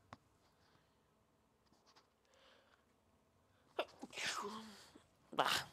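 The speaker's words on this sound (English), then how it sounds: "Hold on, I gotta sneeze." A single sharp sneeze bursts out near the end, close and loud, preceded by a quiet stretch and a short breathy intake.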